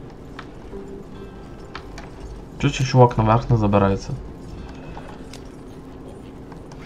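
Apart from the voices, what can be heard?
horses galloping, hooves clip-clopping, from video game Red Dead Redemption 2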